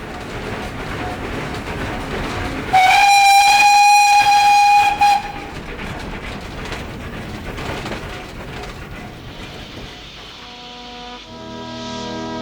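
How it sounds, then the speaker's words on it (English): Steam-era branch train bound for Brecon pulling into a Welsh junction station, with steady rolling rumble and a loud sustained whistle blast of about two seconds, then fading rail noise. "Here, a train bound for Brecon arrives at Talallyn Junction."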